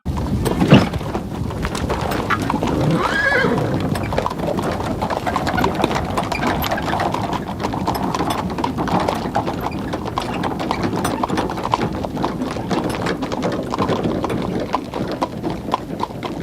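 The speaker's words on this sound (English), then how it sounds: "The horse carriage heads off, the camera continues to film the empty dirt road." Steady clip-clop of horse hooves on a dirt road, continuous and fairly close, with a faint rumble underneath.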